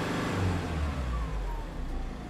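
A Force Gurkha Xtreme 4x4's 2.2 turbo diesel engine revs in a deep, rumbling surge, loud and close with a throbbing low-end pulse that swells briefly and then settles.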